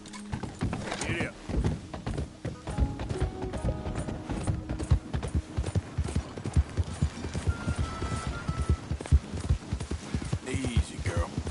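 Horse hooves gallop in Red Dead Redemption 2, a fast rhythmic clip-clop running continuously alongside game hum and mechanical sounds, with a voice speaking over it.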